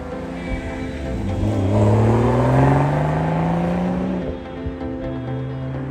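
A 2025 BMW Z4 M40i inline-six engine revs up and climbs through its range, a smooth loud roar rising and falling over several seconds.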